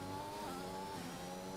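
A race car engine in a racing video game holds steady high revs with harmonic whine, then the pitch drops as it engine-brakes through a downshift and climbs again, loud and continuous with no talk over it.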